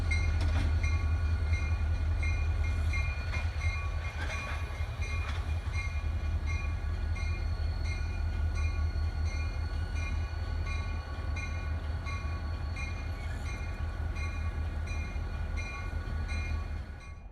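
A CSX freight train rumbles steadily through a rail yard with a heavy low drone and metallic clanks and squeals from the railcars, loud and continuous throughout.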